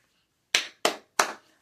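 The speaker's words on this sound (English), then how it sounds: "It say clap 3 times to release and say, I release." Three sharp, close hand claps in a quiet room, spaced at an even, unhurried rhythm, each ringing briefly before silence.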